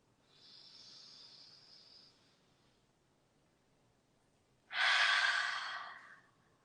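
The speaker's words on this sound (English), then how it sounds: "Deep breath in. Exhale it out." A slow, soft inhale followed by a pause and then a fuller, airy exhale, breathing close and quiet during a restorative yoga session with no talking.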